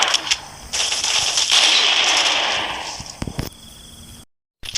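Gunfire in the mobile shooter game Xshot: a few sharp shots, then a long loud rushing burst of rapid fire that tails off into scattered cracks before a brief dropout.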